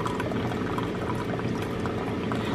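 A Keurig machine runs steadily as it dispenses hot water into a cup, giving a continuous close hissing and bubbling pour with no pauses.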